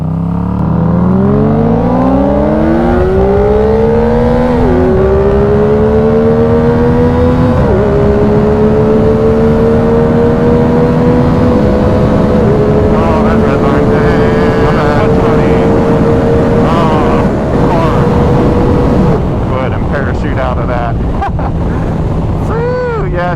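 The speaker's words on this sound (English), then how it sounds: "ZX4RR restricted with the slip-on versus an unrestricted tune for the Yamaha R7 with a full Yoshimura exhaust, DNA filter and cap" Loud engine of a Yamaha R7 and a Kawasaki ZX4RR in a 0-120 speed run, the R7 on an unrestricted tune with a full Yoshimura exhaust, DNA filter and cap, the ZX4RR restricted with a slip-on, with rising pitch through several gear shifts under heavy wind noise.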